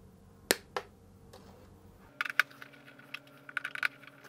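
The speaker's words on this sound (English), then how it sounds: "I'm just going to cut a couple mil off the end of these." Cutters snip the crimped ferrule ends off wires in a handful of small, sharp clicks and snaps. The cuts sound close and dry, with quiet handling noise between them.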